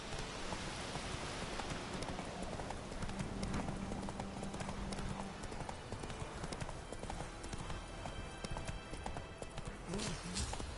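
The horse Roach galloping in The Witcher 3, a rapid stream of clip-clop hoofbeats alongside rain-like patter, steady and close, with brief voices in the mix.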